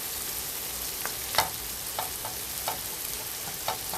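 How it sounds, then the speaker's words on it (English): Onion and garlic sauté in a wok for pork pochero, a soft steady sizzle with a few sharp spatula scrapes and clinks spaced through it, close and moderately quiet. "I just love the smell of the sauteed onion and garlic."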